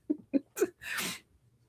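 A person sneezes after getting hair up the nose: three short sharp pre-sneeze gasps followed by a loud, breathy half-second sneeze, close and alone, then quiet.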